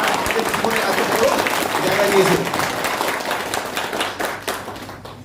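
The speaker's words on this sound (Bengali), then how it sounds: "মরিঙ্গোর জন্য একবার জোরদার হাততালি দেন" Audience at a Moringo training workshop in Mirik gives a round of applause, dense steady clapping filling the room with a voice speaking over it briefly.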